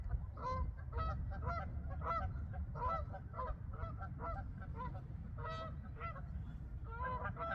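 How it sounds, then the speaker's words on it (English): A flock of geese honks repeatedly outdoors at a lake, many overlapping calls in irregular bursts over a steady low rumble of background noise. "watching wildlife, seeing and hearing the birds just brings me a lot of joy."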